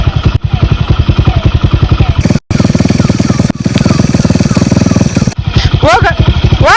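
A motorcycle engine runs close by in a steady, loud, pulsing rhythm for the whole stretch, dropping out for only a brief moment partway through.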